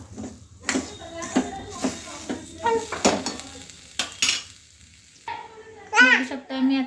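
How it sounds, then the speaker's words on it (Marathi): Coarse semolina (rava) dry-roasting in a pan for upma, stirred with repeated spatula scrapes and clinks over a faint sizzle, with a brief voice near the end. "जरा व्यवस्थित त्याला जरा रवा जरा भाजू दे"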